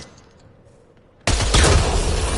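Gunfire aimed at a Kett device in the video game Mass Effect Andromeda, bursting in suddenly and loud after a quiet moment, then continuing as sustained rapid shooting.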